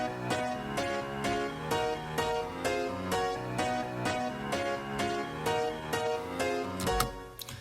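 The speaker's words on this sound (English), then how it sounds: "So combined with the first and second piano" Three piano layers stacked in a pre-chorus arrangement play together as full, soft chords, struck in a steady repeating rhythm with sustained ringing between hits and no voices.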